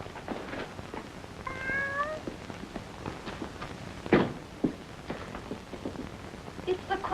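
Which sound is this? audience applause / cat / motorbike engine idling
cat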